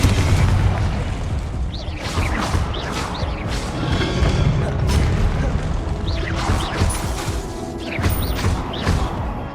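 Confringo blasting spell explosions in Hogwarts Legacy during combat, a dense run of booming, crashing blasts layered over a constant roar that stays loud and busy throughout, with no speech.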